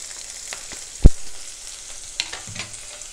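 Onions fry together with ginger and garlic in a pan, giving a soft, steady sizzle broken by one sharp clack of a utensil and a few lighter stirring scrapes.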